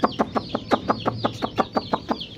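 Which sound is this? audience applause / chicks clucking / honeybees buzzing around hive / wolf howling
chicks clucking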